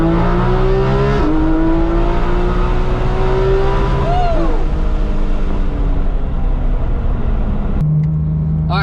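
A 2019 Porsche GT3 RS 991.2 drives along with a loud, steady engine note that climbs and shifts through gears. A brief rising whine appears midway, and the sound stays close throughout.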